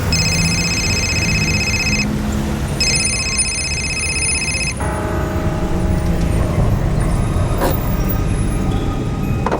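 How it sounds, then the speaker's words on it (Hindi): A taxi drives through busy city traffic, with a steady, loud road and engine rumble throughout and a phone ringing repeatedly over it for the first few seconds. "हाँ शब्बू, अरे टैक्सी चला रहा था इसलिए फ़ोन ले नहीं पाया।"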